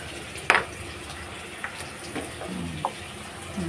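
Potatoes frying in a pan with a little garlic paste added, a soft steady sizzle broken by a few spoon taps and knocks against the pan, close and fairly quiet.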